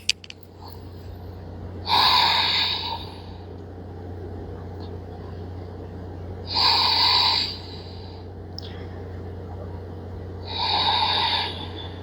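Deep breathing during a gentle yoga stretch, three slow, breathy exhales spaced several seconds apart, close and clear over a low steady room hum.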